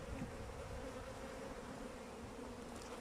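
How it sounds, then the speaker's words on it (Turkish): Honeybees at a two-storey beehive give a steady, dense buzz that stays close and constant throughout, with no voices over it. "Şimdi buradaki arılar da arkadaşlar bal yapacak."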